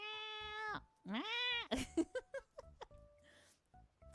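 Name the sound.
person imitating cat meowing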